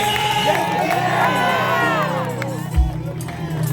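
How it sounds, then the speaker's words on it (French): Church congregation cheering and acclaiming during lively worship, a dense crowd roar of shouts and whoops with loud babble over a low steady musical drone, a brief thump near the end. "Acclamez le Seigneur Jésus pour lui"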